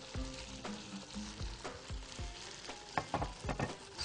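Fried ginger and green chillies sizzle in a cooking pot, a steady hiss broken by a series of sharp scraping and stirring knocks, close and moderately loud, with no voices.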